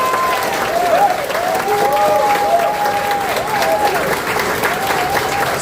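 A large crowd applauds at a public event showing new hospital equipment. The clapping is loud and sustained, with cheering and faint voices mixed in throughout.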